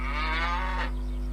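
A cow moos inside a cattle shed, one long drawn-out low call that swells and fades, heard close and alone over a steady low hum.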